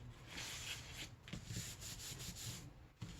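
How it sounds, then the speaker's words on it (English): Paper is burnished with fingers or a bone folder, giving a soft, continuous rubbing and scraping close by, with brief pauses between strokes and no talking. "So you can just give that a burnish with your fingers, or you can use a bone folder"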